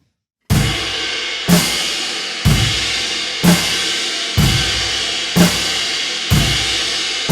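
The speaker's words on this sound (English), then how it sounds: "you can take this right hand, put it on the ride cymbal or the crash cymbal," Beginner rock drum beat played with the right hand on a ride or crash cymbal: steady washy cymbal over a kick and snare pattern, seven evenly spaced accented hits, loud and close with no talking.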